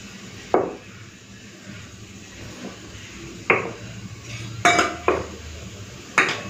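Pots and a kadai are set down and shifted on a home kitchen stove while cooking dal, giving several sharp metallic clanks and knocks at irregular intervals over a quiet room hum.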